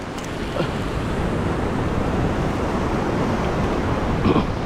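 Big ocean waves break on a rocky Australian shore, a continuous loud wash of surf with wind buffeting the microphone and a couple of brief splashing surges.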